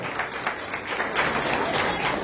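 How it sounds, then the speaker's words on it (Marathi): An audience at a primary school celebration in India claps steadily. The applause is dense and even, with a murmur of voices underneath. "सगळ्यांनी त्यांचे टाळ्या वाजून अभिनंदन करावं"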